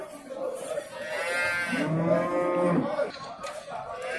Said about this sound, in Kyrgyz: Бул сиздер көрүп турган бооз уй экен